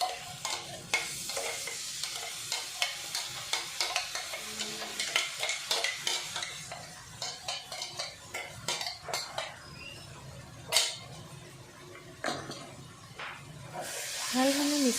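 A ladle stirs ground spinach paste in a frying pan for palak paneer: soft repeated scrapes and wet swishes over a faint sizzle, close and fairly quiet, with occasional sharper clinks against the pan.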